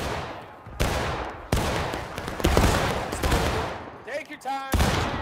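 A ragged volley of musket gunfire in a battle video game, loud sharp cracks overlapping in bursts across several seconds, with a brief voice calling out near the end.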